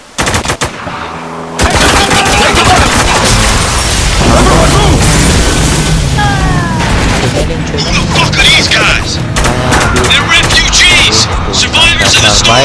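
Sustained automatic weapon fire and bursts of gunshots with booming impacts in the video game Spec Ops: The Line, loud and dense for most of the stretch after a brief quiet opening, with voices mixed in.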